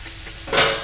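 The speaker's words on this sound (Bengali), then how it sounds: "কত সুন্দর ভাজা হচ্ছে" Gram flour kachori frying in hot oil gives a close, steady sizzle that swells into a brighter crackling burst near the end of the brief moment, with no talking.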